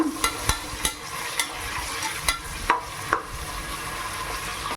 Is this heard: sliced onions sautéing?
yes